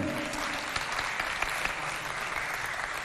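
Audience applause at a FestAfrica show event, a steady wash of clapping from a crowd, moderately loud and continuous, with a few sharper claps standing out.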